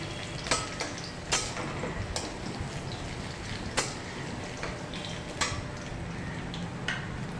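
Chopped garlic frying in hot oil for stir-fried kalmi greens, a steady broad sizzle with a handful of sharp clicks from a spatula stirring against the pan.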